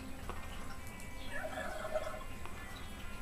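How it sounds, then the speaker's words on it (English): A turkey gobbles faintly in the distance, a short warbling call rising briefly over steady background hiss. "I heard a turkey"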